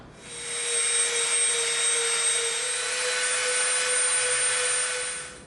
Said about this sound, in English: we're going to soften all these edges up with our Dremel